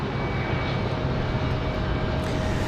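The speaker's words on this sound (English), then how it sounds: "American Airlines 2616 coming up next, coming in from Charlotte." An American Airlines Airbus A321 jet arriving from Charlotte at Raleigh-Durham International rumbles as a broad, steady roar at a distance, dense and unbroken throughout with no voices.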